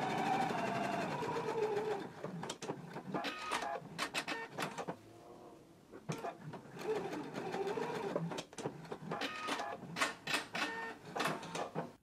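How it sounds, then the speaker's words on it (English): A sewing machine machine-bastes the long and lower edges of a pants underlap in several bursts of rapid stitching, with short pauses between runs and faint talking at times. "Now we can take it to the machine and we're going to machine baste the long edge as well as the lower edge"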